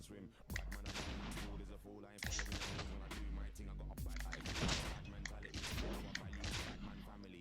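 Automatic gunfire in the Call of Duty Mobile video game: dense, loud bursts of rapid shots in two main stretches, with game sound and a voice mixed underneath.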